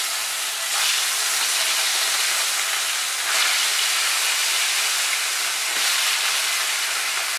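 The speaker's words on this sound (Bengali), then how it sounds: "এবার মাছগুলো সুন্দর করে ভেজে নেব।" Bata fish frying in about four spoons of hot oil in a kadai, a loud, continuous close-up sizzle and hiss that holds steady throughout with no speech.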